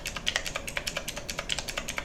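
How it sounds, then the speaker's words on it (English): Rapid, steady clicking of mechanical gaming-keyboard-style keys being pressed on a Divoom Ditoo pixel-art Bluetooth speaker, close and crisp with many quick taps, no voices. "are mechanical keys that you can find on gaming keyboards"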